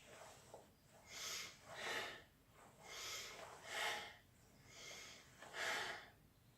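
Sharp breaths are pushed out in a steady rhythm during a karate punching drill, about six forceful exhalations, close and clear, with no speech.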